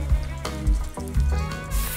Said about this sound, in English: once you start to get a nice sizzle on the sage and the butter